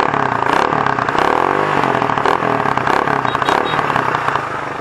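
Motorcycle exhaust fitted with a big elbow muffler and silencer, idling close up. It gives a loud, steady, throbbing engine note with a rapid rhythmic pulse and slight rises in revs throughout.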